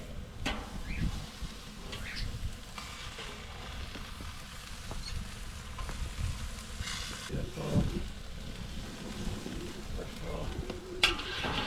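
Steaks cook on an SnS kettle grill with a soft, steady sizzle and crackle up close, broken by occasional scrapes and clanks as they are rolled and turned.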